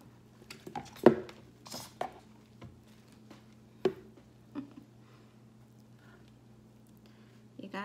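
A spoon works thick, accelerated soap batter in a container, making soft, irregular clanks, scrapes and squishy thumps over a steady low hum.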